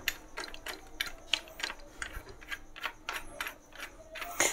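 A drill chuck on a drill machine is twisted loose by hand without a chuck key, giving a quiet, close run of irregular ratcheting clicks and mechanical ticks.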